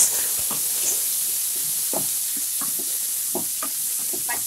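Four large chopped tomatoes with tamarind sautéing in hot oil for tomato chutney: a steady bright sizzle and hiss with scattered soft scrapes of stirring, close and alone.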